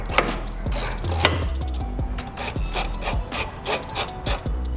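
A 16 mm socket on a BMW F30-series loosens a fastener near the air intake, giving close, rhythmic ratcheting clicks and metallic scrapes that grow more regular and pronounced toward the end.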